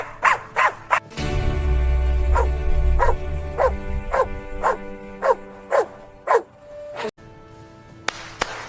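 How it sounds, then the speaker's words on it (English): Dogs bark repeatedly in sharp, evenly spaced bursts close by, one sustained low rumble or growl under the middle stretch, a brief rustle and a couple of faint clicks near the end. "The dogs are barking."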